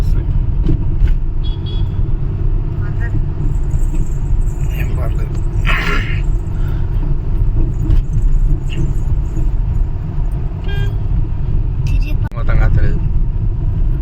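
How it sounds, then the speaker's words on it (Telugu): Busy road traffic near the flyovers at the Tirupati city entrance: a continuous rumble of cars and vehicles, close and loud, with occasional short toots and rattles, and people talking throughout. "ఇక్కడ కూడా ట్రాఫిక్ బాగానే ఉంది"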